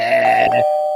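A doorbell rings indoors with a single loud chime whose tone lingers and fades, heard close and partly overlapped by a brief voice at the start.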